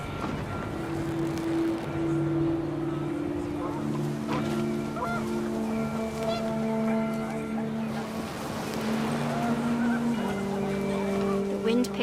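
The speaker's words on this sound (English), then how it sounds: "The wind picked up and panicked geese appeared and quickly went." Panicked geese honk in a windy outdoor scene in the video game What Remains of Edith Finch, with several honks scattered across the clip over a steady background rumble of wind.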